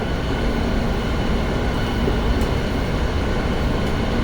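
A steady, loud low rumble of a metro train running in the United States, continuous throughout with a faint hiss above it and no voices.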